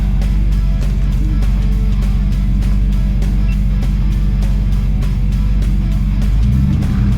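An off-road vehicle on Mickey Thompson tires, in two-wheel drive, pushes through a stretch of mud, its engine a loud, steady close-up drone that shifts pitch near the end.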